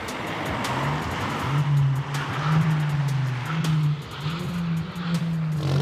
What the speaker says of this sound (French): des dizaines de voitures sont réunies pour un rodéo nocturne